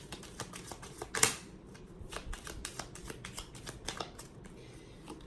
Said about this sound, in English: let me just also pull some clarifiers from the Lenormand deck